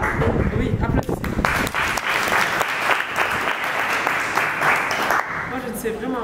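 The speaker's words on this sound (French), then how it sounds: "Oui, applaudissez." Dense, loud applause from an audience at a French-language training workshop for young leaders, sustained evenly throughout with a few shouts mixed into the clapping.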